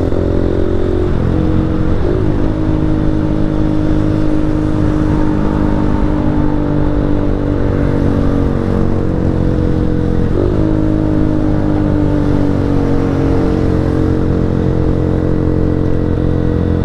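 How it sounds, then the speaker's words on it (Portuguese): A 160cc motorcycle rides in the rain with its engine held near the rev limiter, a loud continuous droning note that cuts and stutters with popping as the revs drop and climb again. "Essa cortadinha de giro dando pipoco com chave demais, velho."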